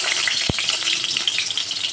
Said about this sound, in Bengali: এবার আলুগুলো আগে ভেজে তুলব।